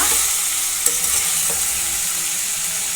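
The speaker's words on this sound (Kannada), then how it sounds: "ಇಷ್ಟು ಮೀಡಿಯಮ್ ಉರಿ ಇಟ್ಕೊಂಡು ಒಂದು 2 ನಿಮಿಷ ಫ್ರೈ ಮಾಡ್ಕೊಳ್ಳೋಣ" Drumstick pieces and potato frying in oil over a medium flame, giving a loud, continuous close-up sizzle with a couple of light stirring knocks.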